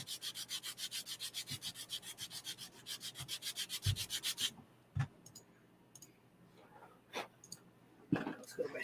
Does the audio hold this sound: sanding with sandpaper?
yes